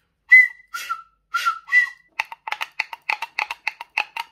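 An open-ended toy flute pipe with a longer air column gives four short, breathy whistled tones, followed by a quick run of about a dozen sharp tapping clicks close by.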